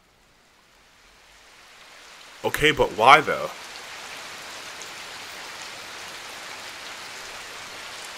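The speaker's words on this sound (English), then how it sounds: "Finally, now I can make the rain fall again." Steady rain falls in the video game Takume The Dreaming Daughter, a soft continuous hiss that starts faintly and then settles into an even wash. A brief spoken line cuts in partway through.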